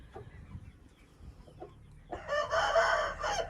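Quiet rustling, then an Aseel rooster lets out a loud, drawn-out call close by, lasting over a second.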